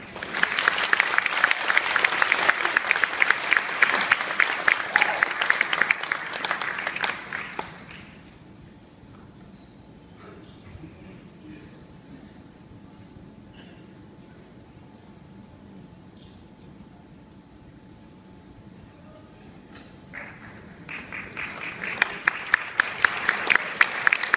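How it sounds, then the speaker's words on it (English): Warm applause for distinguished alumna Mona Chang Vieira at a Sacred Hearts Academy honoring event: loud, dense clapping for about seven seconds, a long quiet stretch with faint room noise, then another swell of clapping near the end. "Let's give another warm round of applause to distinguished alumna and my friend, Mona Chang Vieira."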